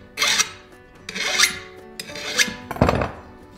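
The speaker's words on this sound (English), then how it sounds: "So I'll just use a flat file and clean up any burrs." A flat file rasps across a chainsaw bar to clear burrs, four distinct scraping strokes in steady rhythm, close and fairly loud, with no talking.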